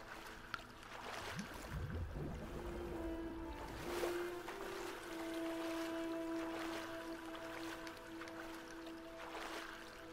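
Swimming through water in the video game Rime, with soft splashing and wave-like washing running steadily throughout, over sustained tonal music.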